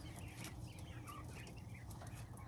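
A pet quail calls from its cage with soft, scattered chirps over a steady low hum.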